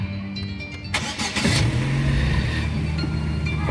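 A 2005 Opel Astra with a 1.8 petrol engine and automatic gearbox cranks briefly, catches and settles into a steady, close-up idle, with no talking.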